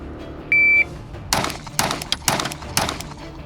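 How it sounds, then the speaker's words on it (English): Pistol shots from a handgun fitted with a micro red dot optic come after a timer beep, four sharp, loud reports in quick irregular succession at close range, with no talking. "I'm gonna start at a low ready, and then I'm gonna take maybe 3, 4 shots"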